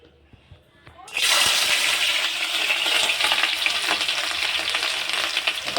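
Ginger-garlic paste hitting hot oil in a kadhai: after a quiet start, a sudden loud burst of sizzling settles into vigorous, crackling spattering that stays close and intense.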